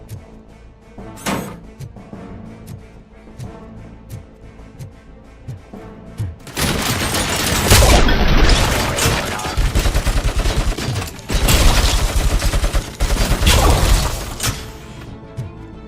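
Heavy machine gun fire in a video game, loud sustained bursts erupting after a quieter stretch of scattered clicks, with crashing impacts and shattering close by.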